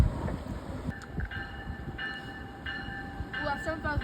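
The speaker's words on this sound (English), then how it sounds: "We see double locomotives a lot, just not connected." A train pulled by double locomotives rumbles past nearby, a steady rolling roar with a sustained horn-like tone rising over it, and a voice briefly audible beneath.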